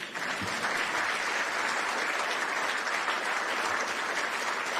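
Continuous crowd clapping at a Chicago Bears press conference, an unbroken, uniform roar of many hands at steady volume.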